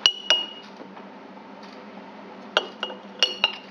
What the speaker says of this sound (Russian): Можно ложкой размешать как раз.